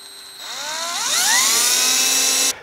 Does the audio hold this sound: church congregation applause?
no